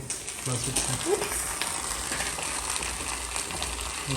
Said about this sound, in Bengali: এখানে চুলা রান্না বান্না চলতেছে বিশাল বড় বড় পাতিল দেয়া আছে